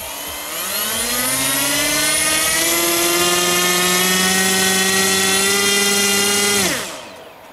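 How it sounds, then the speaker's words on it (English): A Cobra 2204 brushless motor turning an HQ5040 propeller on a 3-cell battery during a thrust test whines loudly and steadily, its pitch rising as it spools up, then drops away sharply when cut off. "Now let's try HQ5040 on this Cobra motor."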